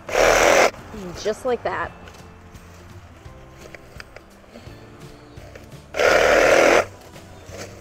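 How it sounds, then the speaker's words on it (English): A Sawzall reciprocating saw cuts down corn stalks in a pumpkin patch, in two loud, steady bursts of close buzzing at the start and near the end, with a person talking briefly in between. "Easiest way to take down corn, Sawzall."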